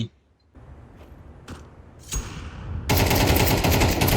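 Gunfire in the Counter-Strike 2 video game on the Office map, a burst of rapid shots that grows into a dense, loud, sustained volley toward the end after a few sharp isolated cracks and mechanical clicks.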